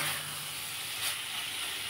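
Mung dal and soybean sautéing in a pan sizzle with a close, steady hiss that holds evenly from start to finish, with no voices.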